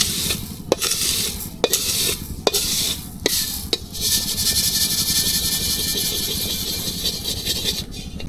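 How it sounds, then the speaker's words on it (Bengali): Lentils are stirred and dry-fried in a pan while preparing goat head muri ghonto, a traditional Bangladeshi dish, with a steady close sizzle and scraping, several sharp spoon clicks against the pan, and no voices. "মুরগির ডালগুলো বাইজা নিতে হবে সুন্দর করে বাইজে"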